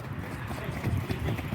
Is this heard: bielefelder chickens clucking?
no